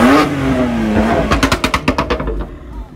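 A modified Volkswagen Scirocco sports car on Maserati wheels revs hard: a rising engine note, then a rapid string of sharp, loud throttle blips and crackles, close and without talk.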